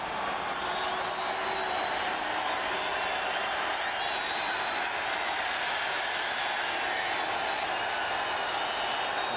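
Loud, steady roar of a football stadium crowd in Seattle, a continuous hissing wall of noise at an NFL game, Raiders against Seahawks, with a few faint whistles over it.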